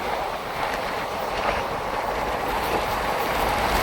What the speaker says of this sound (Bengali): ছুটে চলেছে সাঁতরাগাছি দীঘা ফার্স্ট প্যাসেঞ্জার